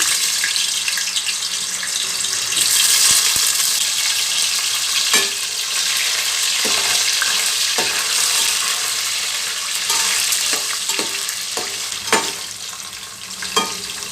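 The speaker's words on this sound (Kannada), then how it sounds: "ಎಣ್ಣೆ ಕಾದಿದೆ ಎಣ್ಣೆಯಲ್ಲಿ ಸ್ವಲ್ಪ ಪನ್ನೀರನ್ನ ಫ್ರೈ ಮಾಡ್ಕೋಬೇಕು ಈಗ ಪನ್ನೀರ್ ಹಾಕ್ತಾಯಿದ್ದೀನಿ" Paneer pieces frying in heated oil give a steady, fairly loud broadband sizzle with occasional sharp clicks and spatters, plus some stirring and clattering throughout, with no one speaking.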